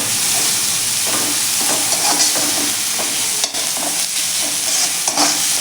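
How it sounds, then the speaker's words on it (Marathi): Capsicum (bell pepper) frying in a pan for vegetable cheese cutlets, a loud, dense, continuous sizzle with faint stirring scrapes running through it, close up and with no one speaking. "शिमला मिरची आपण छान अशी फ्राय करून घेऊया"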